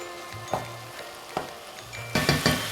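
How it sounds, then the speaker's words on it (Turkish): Tomato paste frying with salt, black pepper and spices in a pan for spaghetti bolognese: a soft steady sizzle broken by a few sharp utensil scrapes and stirring bursts, louder toward the end. "Ve de salçayı da baharatlarla birlikte tekrar kavuruyorum."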